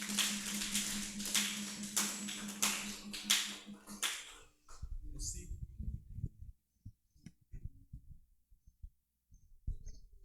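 Church congregation applauding: a few seconds of rhythmic, fairly close clapping over a low hum, then quieter scattered taps and movement.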